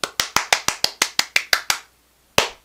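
Hand clapping close to the microphone during a Battlefield 2042 video: about ten sharp, evenly spaced claps in a rapid run, a short pause, then one final clap, with no voices.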